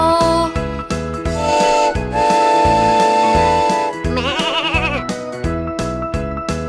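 Rhythmic bleating tones over a bouncy music beat, loud and upbeat, from a Thai children's song about goats on a farm.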